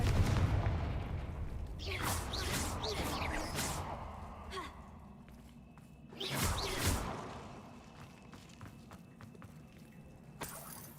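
Confringo fire spell in Hogwarts Legacy: whooshing bursts of blasts and crackle, a cluster early on, then a stronger burst midway and a few sharp cracks near the end, with breathy vocal sounds.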